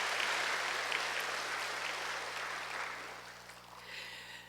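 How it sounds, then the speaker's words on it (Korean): A church congregation gives a round of blessing applause for its choir, with a fairly faint wash of clapping from a large room that fades toward the end. "우리 축복 박수 한번 할까요?"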